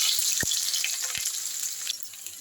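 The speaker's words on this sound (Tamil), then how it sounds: "வெங்காயம் போட்டு அதை நல்லா வதக்குறோம்" Onions tossed into hot oil after mustard seeds have popped, frying with a steady broadband sizzle and a couple of sharp clicks or taps early on, close and fairly loud, with no talking.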